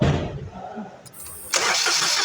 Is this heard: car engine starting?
yes